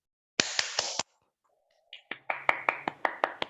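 Participants in an online meeting clap over a video call: a quick burst of three claps, a pause, then a steadier run of about eight claps, close and somewhat compressed.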